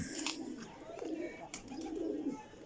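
Flying pigeons in fresh new feathers coo softly in a loft, with low, throaty calls repeating a few times over a quiet background and the occasional faint rustle.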